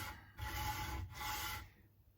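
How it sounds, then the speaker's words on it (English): Two bursts of rough, rasping scraping as a sanding block is rubbed back and forth over an electric guitar nut base, close up with a brief pause between strokes. "it's a pretty simple process of sanding the base down using"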